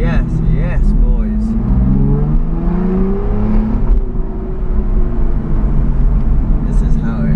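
An Aston Martin in sport mode gives a loud, continuous engine drone from inside the car with a throaty rise in pitch as it accelerates, a voice talking over it.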